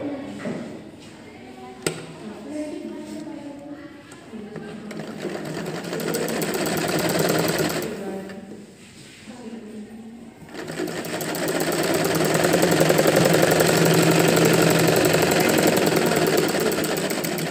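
A sewing machine stitches lining onto a smocked frock in a fast mechanical whir, with bursts that pause and restart and a long steady run at the end, while someone talks at the start.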